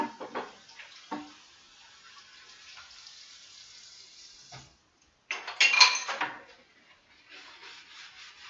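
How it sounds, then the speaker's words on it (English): A dish is rinsed under running tap water, with rubbing and scrubbing against the surface, the water gushing louder in a burst midway before settling back to softer rinsing. "give this a quick rinse."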